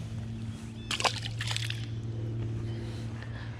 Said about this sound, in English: Put him back in the water.